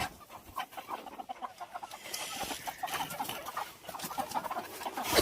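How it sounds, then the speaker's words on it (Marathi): Desi country rooster being caught on a poultry farm, with rapid agitated clucking and squawks over scuffling and rustling, close and fairly busy throughout. "बघा, आता मी तुम्हाला कोंबडा दाखवतो प्युअर गावठी"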